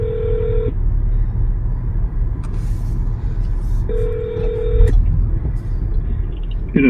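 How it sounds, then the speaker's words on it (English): A telephone dials a call to a senator's office, with two steady electronic tones a few seconds apart over a constant low line rumble, followed by faint clicks and a rising chirp at the end. "Dialing."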